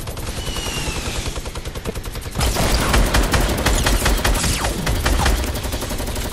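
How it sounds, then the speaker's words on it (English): Sustained machine gun fire and a light machine gun chatter in a shooter video game, rapid rhythmic bursts growing louder and denser partway through, with continuous overlapping rounds and no speech. "Oh, they're getting gunned down."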